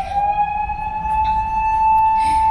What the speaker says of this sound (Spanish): La ambulancia.